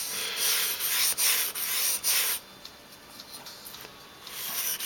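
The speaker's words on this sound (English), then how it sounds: "cannot sharpen Para S90v on sandpaper" S90V steel knife blade sharpened on sandpaper, a series of quick scratchy rubbing strokes in a steady rhythm, then quieter lighter scraping, close-up with no talking.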